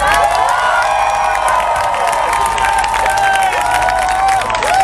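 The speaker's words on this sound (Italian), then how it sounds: "E ringraziamo ancora con un grande applauso Sebastiano Secci" Large outdoor crowd at the Rome Pride rally applauding and cheering continuously, with scattered whoops and shouts over a steady roar of clapping.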